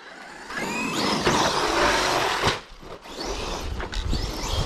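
Traxxas Erevo 2.0 RC car on Maxx tires during a jump session, a high-pitched electric motor whining and surging up and down, broken by sharp impacts and thumps from landings, close and fairly loud.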